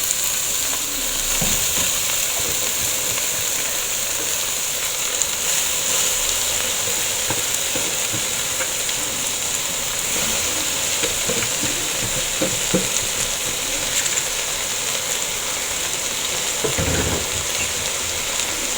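Spinach cooking in a pot while being stirred, a loud steady sizzle and steamy hiss with intermittent scraping and clattering stirring strokes, close and uninterrupted by voices.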